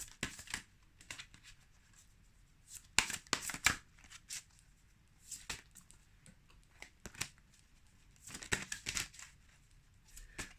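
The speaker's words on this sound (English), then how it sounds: "Trying to shuffle high so you guys can all see it" Tarot cards being shuffled by hand, held up high: repeated soft riffling and flicking bursts, some sharper and louder, scattered irregularly over a quiet background.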